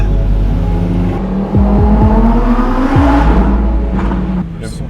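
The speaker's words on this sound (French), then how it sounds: "Le son est trop fou de cette voiture." Lamborghini engine driving through narrow winding streets, a loud close rumble with several revving surges and gear changes, echoing off nearby walls.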